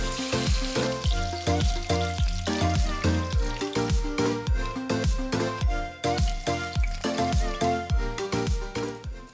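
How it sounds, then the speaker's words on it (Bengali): Pieces of katla fish frying in oil in a pan over a medium-to-high gas flame, a steady close sizzle with rhythmic bubbling bursts and light clatter throughout, no voices. "বাকি মাছগুলোও একইভাবে ভেজে নেব"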